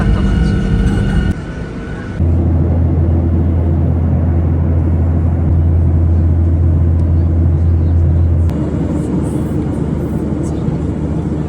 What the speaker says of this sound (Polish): Take off, czyli już zaraz będzie wylądować.